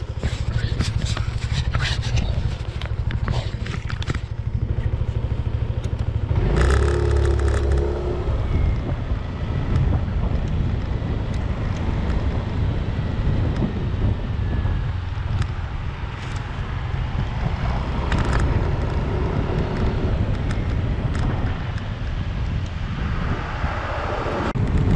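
Yamaha Zuma 125 scooter ridden out of town toward farmland: a constant small-engine hum buried under heavy rushing wind buffeting, loud and unbroken throughout, with occasional scraping rattles.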